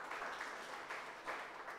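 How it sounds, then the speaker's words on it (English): An audience at an African precision agriculture conference gives a presenter another round of applause after his talk, a soft, distant patter of many hands that swells slightly in places and stays faint throughout. "Let's give him another round of applause"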